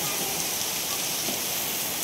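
Heavy rain falls in a dense, steady hiss of countless drops on surfaces, loud and close, with no pauses and no talk over it.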